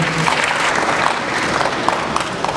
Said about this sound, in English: Can you please clap for her again?